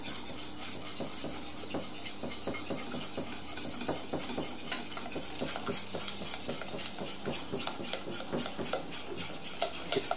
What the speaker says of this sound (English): going to whisk this together to combine it